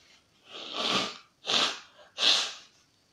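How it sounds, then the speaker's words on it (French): Three sneezes from a woman in quick succession, close and fairly soft, each a sharp burst of breath with a brief intake before it. "Comment ça se fait que moi j'éternue toujours."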